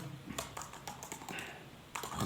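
Fast, light taps on a computer keyboard as code is typed, irregular clusters of close, crisp keystrokes with short pauses between bursts.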